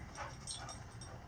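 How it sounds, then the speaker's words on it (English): A neighbor's dog, faint and in the distance, gives a few short whimpers and yips over a low background hum, with no talking. "You can have that one, the neighbor's dog though."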